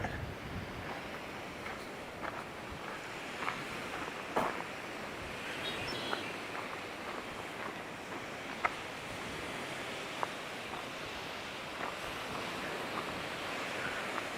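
Steady wind blows along the shore at Sargeant Bay, a constant broadband rush with scattered gusty bumps and no voices.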